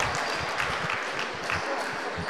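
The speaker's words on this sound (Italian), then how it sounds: "applauditissimo dal pubblico del Palafoccia" A crowd in a basketball arena, the Palafoccia in Perugia, applauds a departing player at a youth league game, a dense, continuous roar of clapping filling the hall with faint voices mixed in.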